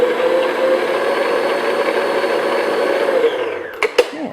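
An electric mixer beats cake batter for cranberry upside-down cake, a loud, steady motor whir that cuts off near the end with a couple of knocks.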